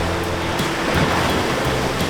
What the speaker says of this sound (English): Anya loves to make a splash with that vehicle